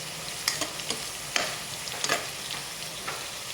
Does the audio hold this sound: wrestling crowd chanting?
no